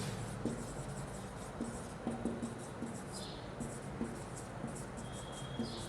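A hand writes numbers during a class 6 math lesson on rounding, making soft, scratchy strokes that come in short, irregular bursts over a steady background hiss.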